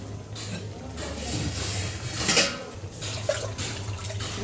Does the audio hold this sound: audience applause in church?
no